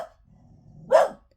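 Dog at home: one sharp, close bark after a short quiet stretch, with a faint low rumble just before it.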